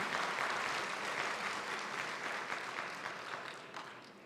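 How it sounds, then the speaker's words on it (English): A dense wash of audience applause fills the hall at a Rotary district conference, steady and fairly loud at first, then tapering off toward the end. "Let's give them a round of applause for the leadership that they provide to Rotary family."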